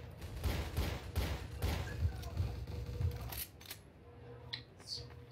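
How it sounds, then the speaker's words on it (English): Rapid gunfire bursts fill a round of Counter-Strike: Source, dense and loud for about three seconds before thinning to a few scattered shots. "So much gunfire."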